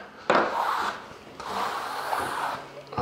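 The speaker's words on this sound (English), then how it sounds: "just thought I'd show you a bit of a clip troweling up and stuff here." A steel trowel skims a heavy coat of plaster across a badly uneven wall in two long, close, rasping strokes with a brief pause between them.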